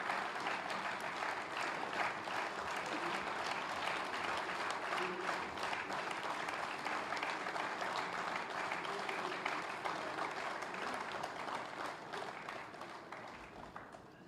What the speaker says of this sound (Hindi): सभागार से अनुरोध करूंगी कि जोरदार तालियों से